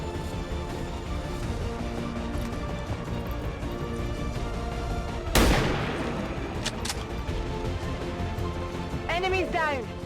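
Gunfire in the turn-based tactics game XCOM 2: War of the Chosen, one sharp loud shot cracking out over steady game ambience, with a voice talking across the surrounding moments.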